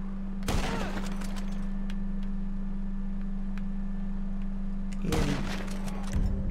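Two loud sniper rifle shots in Grand Theft Auto V, sharp blasts with a brief rolling tail, several seconds apart over a steady engine-like hum, with no talking.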